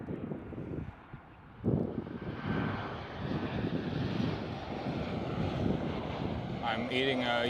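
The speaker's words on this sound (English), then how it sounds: "Next one up looks like a Transavia 737." Transavia Boeing 737 jet airliner at Schiphol, a broad jet roar that swells in after a short lull and holds loud and steady, with wind buffeting the microphone.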